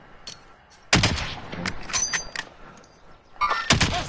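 Gunshots in Warzone, a first-person shooter: scattered sharp shots, one louder close crack followed by quicker exchanges and a final cluster of shots, over faint background game noise.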